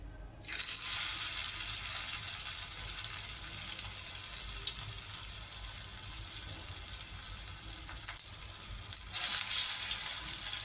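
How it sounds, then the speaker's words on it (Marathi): Sliced colocasia-leaf patra vadi slips into hot oil for deep-frying, and a loud, even sizzle starts abruptly and hisses on steadily, close to the pan. "आता कापल्यानंतर आपण आता तिला तळून घ्यायची"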